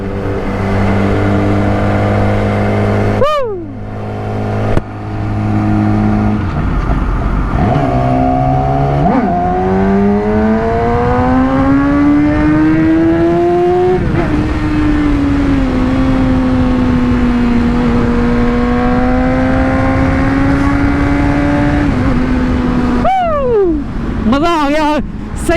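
A Yamaha R6 600cc four-cylinder sport motorcycle rides through a night underpass, its engine note climbing and falling through steady runs and sharp revs, loud and close throughout, with brief quieter gaps between throttle bursts.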